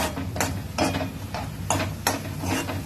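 Onion is sautéed and stirred in a pan, with rhythmic scraping strokes about every half second over a soft, steady sizzle, close and alone.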